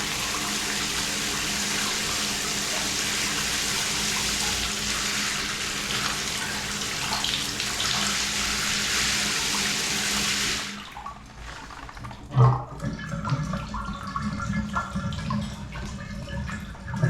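Water gushes steadily from a spout during a service call, a loud continuous splashing rush for about ten seconds, then cutting off to quieter drips, trickles and small handling knocks.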